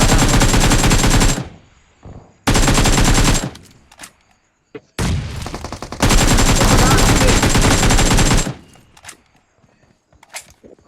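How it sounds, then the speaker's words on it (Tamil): Heavy, loud gunfire from a shotgun in the battle royale game BGMI crashes out in long dense bursts separated by brief quiet gaps, with small clicks and handling sounds in between. "ஷாட் கன் அடிக்கிறேன்."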